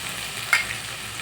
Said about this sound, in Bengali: আলু সেদ্ধ একটু ম্যাশ করে দেওয়া হয়ে গেলে দেখুন দিয়ে ভালো করে একটু কষিয়ে নেব।